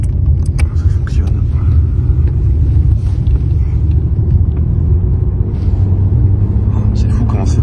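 Alfa Romeo 164 V6 driving, heard from inside the cabin as a loud, steady low rumble of engine and road noise that holds without break, while people chat over it.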